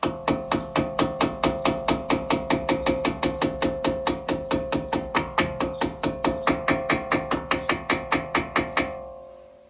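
Rapid, even metallic hammer blows strike an Audi RSQ3 brake disc, about forty sharp close strikes in a steady rhythm that stop abruptly at the end.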